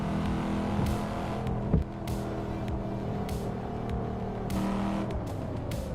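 A car engine revving and pulling in a driving video game with traction control turned off, a steady droning roar with rising and falling pitch sustained throughout, close and fairly loud, with one brief thump partway through.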